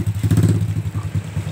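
A motorcycle engine running close by, a rapid, throbbing low putter with light clattering pulses throughout the short stretch.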